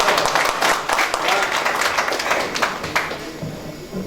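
Audience applause at a Hindi comic poetry gathering (hasya kavi sammelan) in Ramgarh, Jharkhand, a dense burst of clapping from a crowded hall, loud and continuous before thinning toward the end, with voices mixed in.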